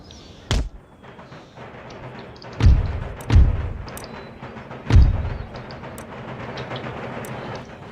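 Musket volleys from line infantry firing by rank in Empire Total War boom out as several separate heavy thuds, spaced a second or two apart, over a steady low battlefield rumble.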